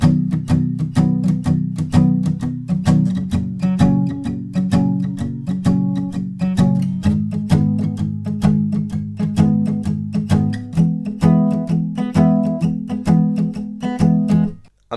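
Acoustic guitar strums the intro, verse and chorus of a song with palm muting, a steady, busy rhythmic pattern of clipped chords played close and alone for the whole stretch.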